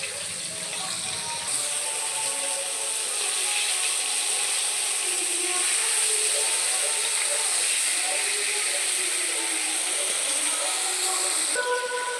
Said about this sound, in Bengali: তেলটা গরম হয়ে গেলে চিংড়ি মাছগুলো একটা একটা করে দিয়ে দেব।